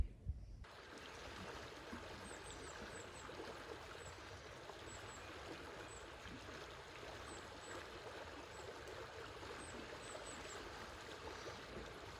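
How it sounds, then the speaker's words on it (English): The James River at Powhatan State Park flowing beside a trail, a soft, steady rushing of water heard from a distance with faint bird chirps scattered over it. "that river is really flowing behind us"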